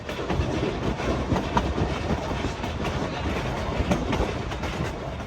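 A Cumbres & Toltec railroad train rolls along the rails climbing a hill, with a steady rumble and rhythmic clickety-clack of wheels, continuous and moderately loud, with no talking.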